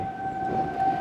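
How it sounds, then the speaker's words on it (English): Outdoor tornado sirens sounding during a monthly test, a steady sustained wail heard from a distance, holding an even pitch throughout with faint background ambience. "You can hear the tornado sirens going off."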